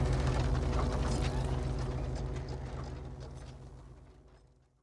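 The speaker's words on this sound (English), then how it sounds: "eventually she gets the array to respond, the device whirring to life, parts rattling fiercely" Mechanical game sound effect of a device whirring to life, with gears and ratcheting parts clattering fiercely, loud at first and then slowly fading away over a few seconds, with no voices.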